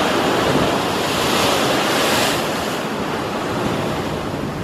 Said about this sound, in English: just looking down at the ocean below me